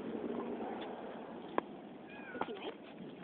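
A house cat met on a walk gives a couple of short meows amid soft outdoor background noise, with a brief sharp sound near the middle.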